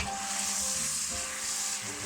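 Vegetables including carrot sizzling in a pan for a cheap survival dinner with rice and pork, a close, steady hiss with a brief clatter as the food settles.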